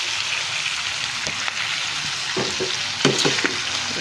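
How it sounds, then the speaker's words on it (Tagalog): Potatoes in adobo stirred in a pot over steady sizzling, a few scraping strokes of the spoon, and a louder burst of clatter near the end, with no talk. "Haluin lang natin."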